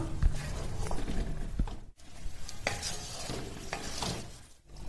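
A spoon stirs chicken gravy simmering in an iron kadai, giving soft scraping and clinking strokes over a faint bubbling sizzle at moderate closeness, with a couple of brief pauses.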